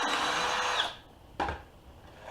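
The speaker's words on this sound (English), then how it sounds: "I'm going to pilot drill the holes in here." A power drill bores a pilot hole into a 2x12 wooden board with a sustained whirring grind, stops, then gives a brief second burst followed by quiet, all close up with no talk.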